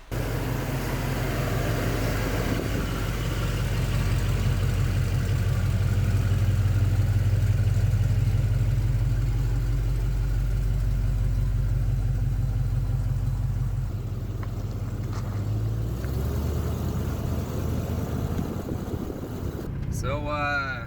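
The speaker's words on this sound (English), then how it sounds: "So I really like that, at least in the high RPMs, it still sounds like a muscle car." A V8 LS-swapped El Camino exhaust rumbles steadily at close range with a deep, loud drone, easing back near the end as a voice briefly speaks.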